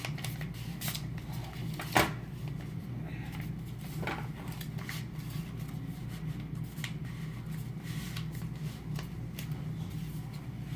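Paper is folded and squeezed while making a paper toy shotgun, giving a string of close, crisp crinkles and rustles with one sharper crackle, over a low steady background hum.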